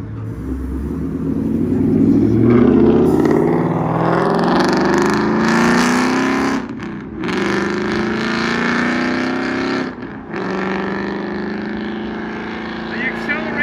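A Ford Mustang doing donuts revs and accelerates loudly, its engine roar rising and falling with brief dips, close and dominant throughout.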